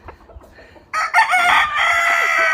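A black Asil rooster on a farm gives one loud, close crow lasting a second and a half, after a quiet stretch of faint shuffling and low clucking.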